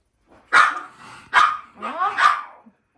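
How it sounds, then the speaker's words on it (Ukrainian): Several loud barks from nearby dogs, three quick bursts in a row, the last one drawn out into a yelping howl. "вже відчули, що хтось приїхав, починається гавкотіння"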